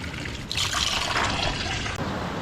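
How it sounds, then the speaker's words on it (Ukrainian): Stream water splashes and trickles steadily in a Carpathian forest, a broad bright rush with no voices, continuing for a couple of seconds. "Я в ручейку набираю воду"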